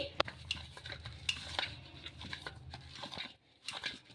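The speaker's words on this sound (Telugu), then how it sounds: "మళ్ళీ ఒకసారి చేతితో ఈ విధంగా బాగా కలిపేసుకొని" Green gram puri dough mixed by hand produces soft squishing and sticky kneading noises, with sharp little clicks and taps like a bowl or utensil being touched, close and quiet.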